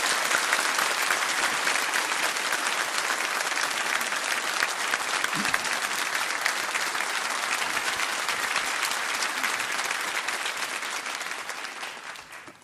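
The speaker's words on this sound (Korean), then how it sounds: "큰 박수로 목사님 모시겠습니다" Korean church congregation gives loud, sustained applause to welcome the pastor to the pulpit at Bundang Woori Church, a dense, even roar of clapping that tapers off at the very end.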